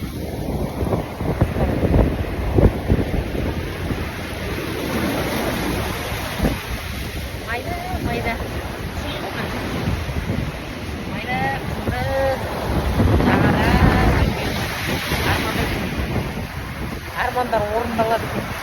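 Sea waves and gusting wind along the South China Sea shore, a continuous loud rushing wash with microphone buffeting, while a person talks throughout.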